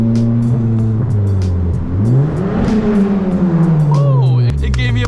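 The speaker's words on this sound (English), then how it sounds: "loudest car for sure now" An FK8 Honda Civic Type R with a Tomei Type D catless exhaust revs up close and loud, its engine note climbing and falling in sweeping pitch, with brief talk near the end.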